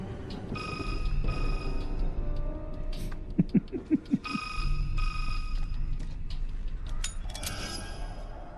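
A phone rings in the video game Resident Evil 6, with two long electronic ringing bursts separated by brief clicks and footstep-like taps, moderately loud over low game ambience.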